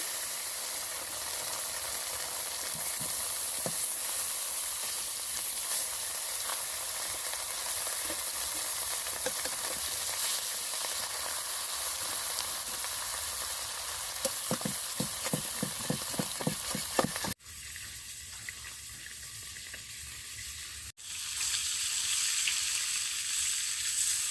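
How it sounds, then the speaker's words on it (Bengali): Snakehead fish pieces fry in hot oil for a village-style curry, giving a steady dense sizzle with a run of crackling pops; the sound briefly drops twice and then returns. "বাদ বাকিগুলো আমি ভেজে নিচ্ছি।"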